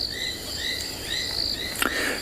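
Southern foam-nest frogs and sand frogs call on a rainy South African morning, a dense chorus of high trilling, chirping notes repeating steadily over soft background noise.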